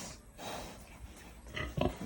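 Farm pigs grunting and snorting in a pen, a few low nasal grunts rising toward the end over a steady background noise, moderately close.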